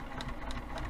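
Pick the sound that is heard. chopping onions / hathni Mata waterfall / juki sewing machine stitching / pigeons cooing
juki sewing machine stitching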